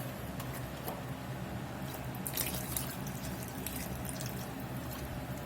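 Broth poured into a pot of broccoli for broccoli cheddar soup, a steady close liquid pour and splash running throughout, with a few brief brighter splashes partway through.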